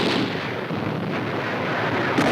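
Deadly fire from enemy guns in WWII jungle combat in the South Pacific: a dense, continuous roar of rumbling blasts and bursts on an old combat film soundtrack.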